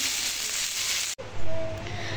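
Potatoes coated in turmeric, chili and salt hitting a hot pan for a vegetable dish, a steady close sizzle and hiss that breaks off briefly, then resumes louder with frying crackle.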